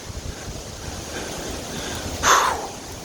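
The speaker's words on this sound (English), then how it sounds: "This ain't no 30 mile an hour wind gust." Hurricane Helene's powerful wind roars steadily in Marion, western North Carolina, a dense rushing wash with one stronger gust surging briefly near the end, heard without any voices.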